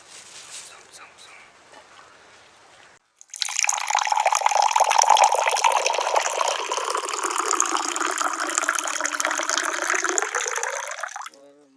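After a quiet stretch with faint noise, water suddenly gushes loudly and steadily over raw chicken being washed for several seconds, then cuts off abruptly.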